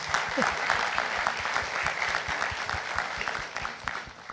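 An audience claps steadily at a talk show discussion about Indonesian morals and ethics, a dense, even patter of many hands sustained throughout, moderately loud and close.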